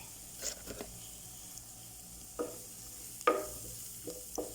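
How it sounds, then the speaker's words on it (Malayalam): Onions with cornflour sauté in a pan, a faint low sizzle beneath a few distinct scraping strokes of a spatula, quiet and close, with no talking. "ഇതിൻ്റെ പച്ചമണം മാറുന്നവരെ ഇങ്ങനെ വഴറ്റാം."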